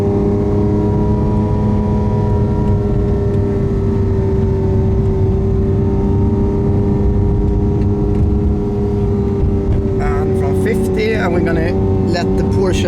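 A Chevrolet Camaro running against a tuned Porsche 996 Turbo, a loud steady engine drone heard from inside the car with a rising pitch toward the end, under a voice talking throughout.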